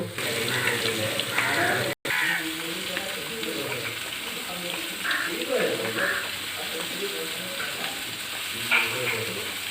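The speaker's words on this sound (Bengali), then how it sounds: "এবারে জল দিয়ে ধুয়ে পরিষ্কার করে নেব।" Water splashes and sloshes in a bowl as ridge gourd pieces are rinsed by hand, with a constant background hiss and some talking.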